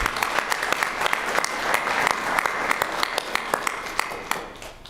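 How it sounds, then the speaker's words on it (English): Applause from attendees at a state transportation commission meeting, a room of hands clapping steadily with sharp individual claps standing out, sustained for several seconds. "Round of applause."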